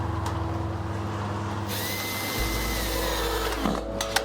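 A power drill drives screws into copper gutter hangers, its motor whirring continuously and shifting pitch as the screw seats, then winding down near the end, close and loud without talk.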